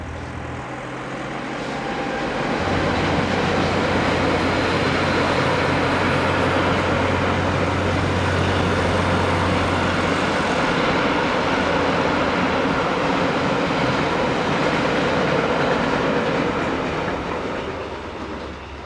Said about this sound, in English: One 185068 heads south just 3 minutes later with a rake of hoppers